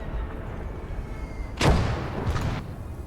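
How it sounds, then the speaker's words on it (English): Heavy artillery fire in the video game Motherland: a deep boom rolls over a constant low battle rumble, then a second softer blast follows a moment later, both at middle distance. "that heavy artillery is doing a job"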